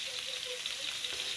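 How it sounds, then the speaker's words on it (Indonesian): Butter sizzles steadily in a pan while fishing bait cooks, making a soft, even frying hiss with no other sounds and no talking. "Sambil kita nunggu, langsung kita kasih butter Wisman, jadi aromanya dia nanti biar lebih oke ya"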